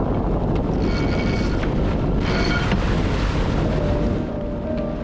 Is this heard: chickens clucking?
no